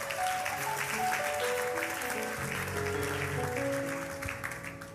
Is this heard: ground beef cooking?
no